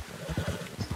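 A Belgian draft horse in the Red Dead Online video game, heard as a short run of heavy clip-clop hoofbeats in a steady rhythm, close and moderately loud with no talk over it.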